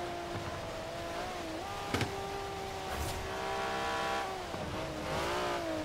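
Racing-game car engine in Forza Horizon 4, played on a wheel, holding steady high revs with shifting pitch, brief thumps and tire noise, loud and continuous with no talk.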